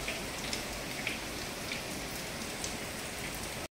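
Steady rain pours on an ancestral house, a dense, even hiss of drops on the roof and surfaces, close and continuous with no voices, cutting off abruptly at the very end.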